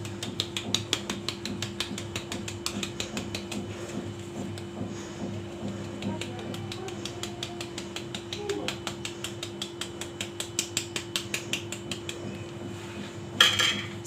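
A whisk stirs light cake batter in a bowl, tapping and scraping the sides in a quick, steady rhythm of soft clinks, fairly faint over a low background hum, with a sharper clatter near the end.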